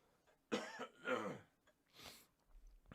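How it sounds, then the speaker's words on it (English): A person clears their throat with a few harsh, gravelly bursts, close and fairly loud, with short pauses between them. "Got to keep clearing my throat."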